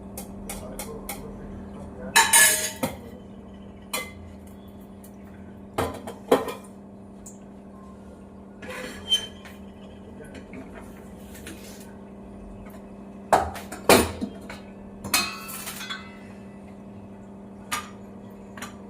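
Intermittent clinks and clatters of pots and metal utensils being handled in a kitchen, with a steady low hum in the background.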